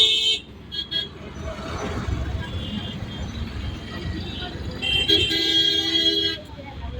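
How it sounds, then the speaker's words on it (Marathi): Heavy road traffic rumbles in Wagholi, with car horns tooting near the start and a longer stretch of honking later on, and a voice talks over the steady vehicle noise. "हे वाघोलीचं ट्रॅफिक बघा"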